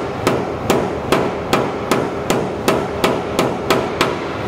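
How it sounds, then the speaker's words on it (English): A domed hammer striking hot welded metal near a trunk plate, landing about ten sharp, evenly spaced blows, loud and close, with no talking. "I'm going to start hammering right in front of it with the domed radius on this"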